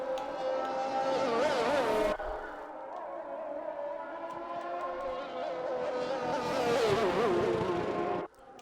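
Race cars on a formation lap at Imola in a racing video game drone past with wavering engine tones, one car fading out and another rising, loud and continuous with no talking.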